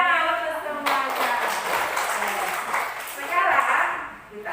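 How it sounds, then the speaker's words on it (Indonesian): Children clap in a classroom after answering a science lesson question, a short, moderately loud burst of clapping with a teacher's voice and some chatter mixed in. "Tepuk tangan untuk semuanya."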